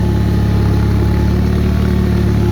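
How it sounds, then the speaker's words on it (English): A Bolens HT-23 garden tractor with a snowblower attachment runs with a steady, close engine drone and a rhythmic low throb, the blower gradually winding down as its belt slips; no voices. "See my blower slowly stopping."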